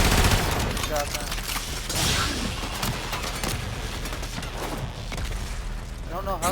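Shotgun and other gunfire in a video game, a dense, loud barrage of blasts and booms throughout, with voices talking over the shooting.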